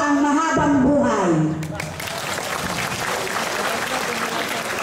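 Audience applause at a community gathering against a coal-fired power plant, a crowd's clapping rising after a speaker's voice and continuing steadily at moderate volume.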